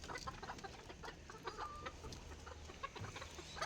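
Brooding hens with their chicks fill the space with continuous soft clucking and scattered cheeping, close and busy, with steady low background noise throughout.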